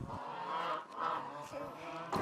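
A flock of a neighbor's geese on a hillside farm in northern Shaanxi honks in a fairly faint, continuous chorus.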